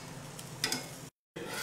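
A chilli cheese paratha fries in ghee on a tawa with a soft, steady sizzle and a couple of brief scraping touches. The sound cuts out for a moment and then resumes, with no voices.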